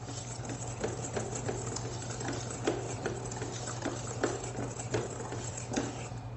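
A stand mixer fitted with a whisk beats fermented cake batter, giving a steady motor hum with repeated light ticking and patting from the whisk, moderately close and without talk.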